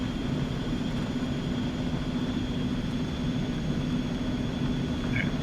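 An Eclipse 550 business jet in X-Plane 11 rolls along a taxiway with a steady, even engine whine and hum that stays constant and fairly close throughout, with no voices.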